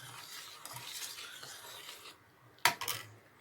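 A spoon stirs milk in a pot as lemon juice is added to split it for chhena, a soft scraping swirl followed by a couple of sharp metallic clinks near the end, with no talking.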